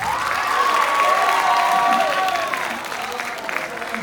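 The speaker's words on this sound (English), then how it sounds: "Clap it up for Hitler's a bad guy." Studio audience applauds and cheers at a steady, loud level that tapers slightly toward the end, with crowd voices mixed in and a drawn-out vocal tone riding over the clapping.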